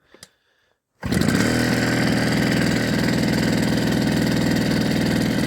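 A Wacker BS52Y vibratory rammer fitted with a WM80 engine kit fires up after a second of near silence, then runs loud and steady at a fast, even throb for the rest of the clip.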